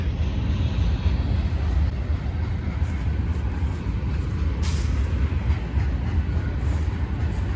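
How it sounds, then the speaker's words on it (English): A train rolls past on a foggy autumn morning, a steady, fairly loud rumble of wheels and cars that holds for the whole stretch without a break. "Train going by there."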